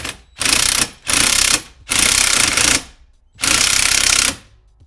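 An impact wrench rattles in four loud bursts, each about a second long with short pauses between, as it tightens bolts on a Gatekeeper tire carrier bracket.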